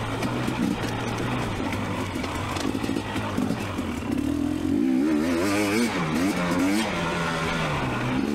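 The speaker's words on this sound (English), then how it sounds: "have a good time riding dirt bikes" Dirt bike ridden on the Cabin trail at Johns Peak OHV, the engine buzzing close and loud, then revving up and down in rising and falling waves through the second half, with faint clatter underneath.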